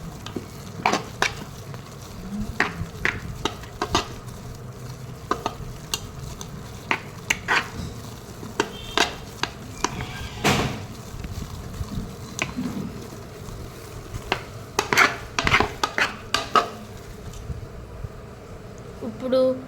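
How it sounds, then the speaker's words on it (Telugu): Cream being churned quickly by hand to make butter, an irregular run of fast sloshing, clattering strokes in a vessel, with a voice talking in between. "సో ఇలా చాలా స్పీడ్గా తిప్పుకోవాలన్నమాట ఫ్రెండ్స్"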